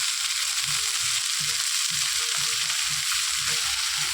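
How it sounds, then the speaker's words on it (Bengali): Vegetables and leafy greens fry in a pan for a Bengali chorchori, giving a loud, constant sizzle with a soft rhythmic scraping of a spatula beneath it and no talking. "এবার দেখুন ভাজা হয়ে গেছে, অল্প ভাজা হয়ে গেছে"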